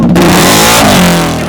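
A Honda PCX motorcycle engine revs hard through a newly made exhaust, loud, close and heavily distorted, with one sustained roaring rise and no talking.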